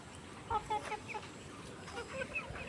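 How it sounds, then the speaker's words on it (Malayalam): Chickens cluck in short bursts close by while pecking at mango, a few soft calls scattered over a steady outdoor background. "മാമ്പഴം തിന്നുന്ന കോഴി."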